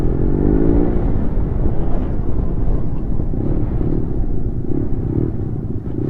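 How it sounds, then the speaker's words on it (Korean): A dense, loud rumble of engines idling and revving nearby, like several motorcycles running together, continuous throughout. "오토바이가 저렇게 많아"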